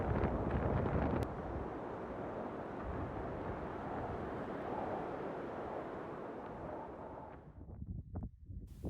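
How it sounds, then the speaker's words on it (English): Strong wind roars outdoors in Utah in early spring, a steady loud rush buffeting the microphone throughout, easing into gustier, patchier bursts near the end. "The wind was something that we would have to contend with the entire trip"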